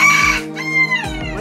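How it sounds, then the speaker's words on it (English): A backyard rooster crows loudly and close by, two strained cock-a-doodle-doo calls in quick succession with a hoarse, broken tone, no talk over them. "Pete, our rooster, which you're hearing"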